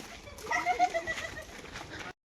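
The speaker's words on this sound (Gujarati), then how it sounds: "કબૂતર જો ખાલી" Pigeons coo softly near a temple on a hill-station trip, making faint, throaty calls in a short run before the sound cuts off.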